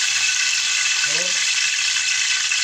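Continuous close sizzling of whole spices frying in hot oil — bay leaf, cardamom, cloves, cinnamon and cumin — steady and bright, with a brief faint voice in the middle.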